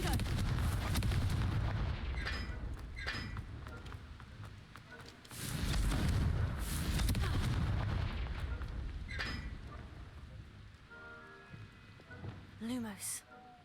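Confringo fire spell explosions in the video game Hogwarts Legacy: loud, dense blasts and crackling roars, with a big surge around the middle and quieter rumbling and brief tonal effects toward the end.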